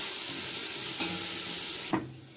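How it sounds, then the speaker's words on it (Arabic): Onion sautéing in hot oil while being stirred gives a steady close hiss and sizzle that drops off sharply near the end, with faint scraping. "احنا حطينا زيت ومعانا بصلايه، وانا بدي اقلب كده لحد ما تتشوح"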